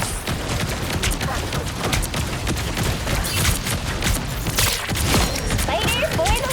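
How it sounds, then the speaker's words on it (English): Rapid bursts of explosive game effects from a fireworks attack in the superhero shooter Marvel Rivals, a dense crackling barrage with booms and impacts under character voice lines and busy combat sound. "Time for some fireworks."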